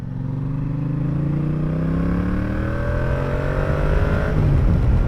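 A 2017 Yamaha Tracer 700 motorcycle accelerating hard, engine pitch climbing steadily through the gear, loud and close with no talking.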